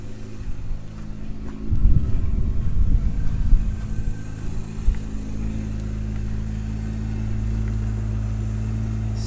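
A Honda Civic with a swapped K24 crate engine idles just after starting, a steady low rumble near the car, briefly rougher and louder for a couple of seconds before settling into an even idle.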